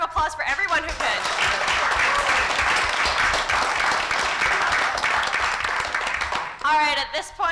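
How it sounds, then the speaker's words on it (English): A large audience at a business pitch competition breaks into sustained, loud applause for the pitchers, a dense wash of clapping that fills several seconds before a voice returns near the end. "Can we have a big round of applause for everyone who pitched?"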